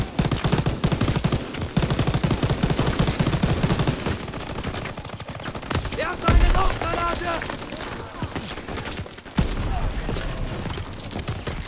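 Sustained machine gun fire in the World War II shooter Call of Duty WW2. Long, rapid, loud bursts of shots break off for a moment, then start again.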